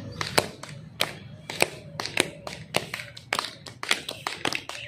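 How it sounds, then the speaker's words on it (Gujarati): Rhythmic hand clapping in the dholak style, done as an acupressure exercise: sharp, loud claps in a steady drum-like pattern, some claps doubled, close by with no talk over them. "આનું નામ છે ઢોલક તાળી"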